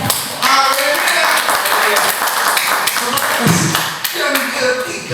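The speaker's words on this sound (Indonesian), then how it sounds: "Tepuk tangan buat Tuhan" A church congregation at a Christmas service claps hands together, fairly loud and close, mixed with voices and a music-like tonal background under the clapping.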